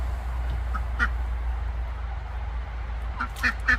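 Farm ducks kept alongside pigs and chickens give a few brief quacks, one near the start and a quicker cluster at the end, over a steady low background hum.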